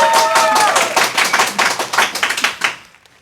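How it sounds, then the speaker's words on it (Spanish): A small studio audience greets a guest with close, distinct applause, individual claps audible as it tapers off and ends abruptly. "Más que merecidos aplausos."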